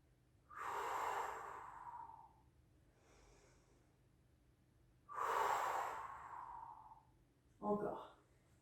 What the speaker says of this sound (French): On inspire.